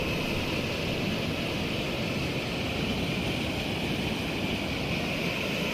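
Flood water of the Swarnamukhi river, swollen by heavy rain, pours down with force in a constant loud broadband roar that stays steady and unbroken throughout.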